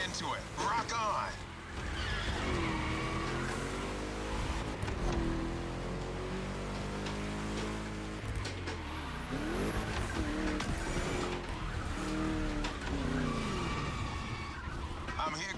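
Car driving in the racing video game The Crew Motorfest, with engine tones and swooping tire skids and squeals running throughout, often layered under talking.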